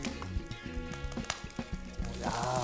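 Rice mixed with mayonnaise and flying fish roe stir-fries in a pan over high heat, giving a steady, soft sizzle with small scattered pops and crackles throughout, heard close with no talking.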